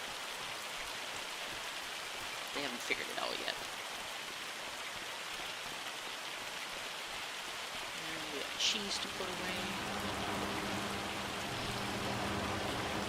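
Hail patters continuously in the farming game Hof Bergmann during a winter scene, a soft, steady hiss running beneath a man's occasional speech.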